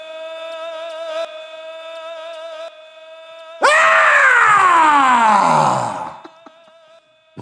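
A voice imitates the long rock scream from The Who's "Won't Get Fooled Again", a loud, sustained, wavering yell that slides downward and fades after a few seconds, preceded by a steady electronic tone.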